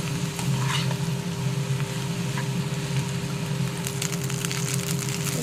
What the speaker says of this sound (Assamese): এতিয়া ভাতখিনি দি দিলোঁ মই ইয়াত, আৰু ধুনীয়াকৈ কিছু সময় ভাজি থাকিব লাগিব এইখিনি।